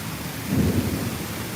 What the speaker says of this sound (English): Oh, that thunder.